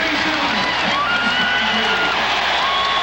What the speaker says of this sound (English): They are standing and cheering here at the Hearn Center